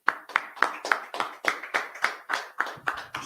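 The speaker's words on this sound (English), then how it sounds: "Let's clap it up." Rhythmic, evenly spaced claps, about a dozen in steady unison, ring out close and clear at an evening scripture and history class, with no talking over them.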